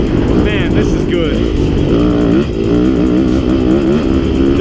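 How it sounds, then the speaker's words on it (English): A Yamaha YZ250FX 250 dirt bike engine revs hard and shifts up to fourth gear while riding desert single track, loud and close with rising, falling pitch sweeps. "Listen to that 250 motor pop up to fourth. Little fourth gear action here."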